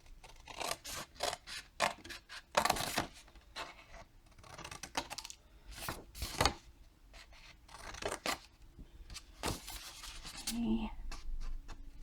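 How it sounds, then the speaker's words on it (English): Scissors snipping the corners of a thin wooden envelope, a series of close, crisp cuts and rasping snips in an irregular rhythm, with a person speaking at times in between. "I think I'll just use a pair of scissors today."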